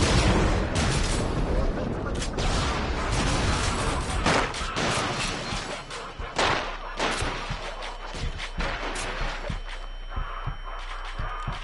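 Loud, rapid gunfire and explosive booms in the VR shooter Until Dawn: Rush of Blood, a dense barrage at first that thins into scattered sharp shots, with a voice talking over it.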